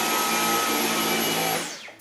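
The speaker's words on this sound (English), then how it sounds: "And you can start vacuuming." A Dyson V11 Animal cordless vacuum cleaner runs with a loud, steady whine and high motor tone close by, then spins down and fades near the end, with no voices.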